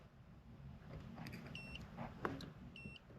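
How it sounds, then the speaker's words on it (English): A multimeter gives a few short, faint electronic beeps while probing a blue wire at the fuse block of a classic car, spaced irregularly over a quiet background. "You hear it beeping, we've got voltage."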